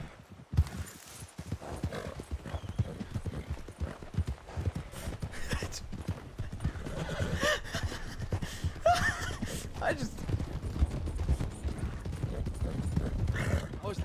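Hooves clip-clop in a busy, galloping rhythm with a horse whinnying in the video game Wild RP, mixed with voices and game noise throughout.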